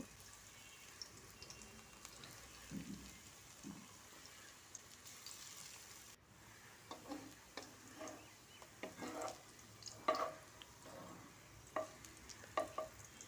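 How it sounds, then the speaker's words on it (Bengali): Small fritters (bora) dropped into hot oil for a fish curry, giving a faint, low sizzle with scattered clicks, light scrapes and bubbling pops that grow busier in the second half. "ছোট ছোট করে দিয়ে দেব বড়া তেলের মধ্যে।"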